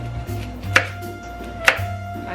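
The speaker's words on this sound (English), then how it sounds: "I'm gonna chop some carrots" Carrots are cut diagonally with a knife, two distinct chops sounding close and crisp about a second apart over quiet kitchen background.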